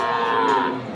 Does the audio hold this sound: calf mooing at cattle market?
yes